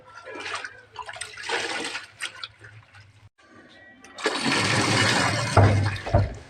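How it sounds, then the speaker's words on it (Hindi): Saag greens being washed in water, with splashing and sloshing as the leaves are handled, intermittent at first and then a louder continuous rush of water. "साग को मैंने धोना स्टार्ट कर दिया है।"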